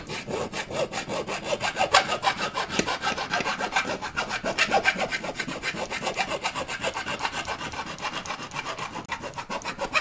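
Holes in an amplifier chassis being enlarged by hand, a steady rapid back-and-forth rasping and scraping that keeps a constant rhythm for the whole stretch, close and with no voices.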